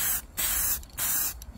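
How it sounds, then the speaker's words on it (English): Three hissing bursts of undercoating sprayed from an aerosol can, each about half a second, close and fairly loud with short pauses between. "So don't try and spray one aggressively"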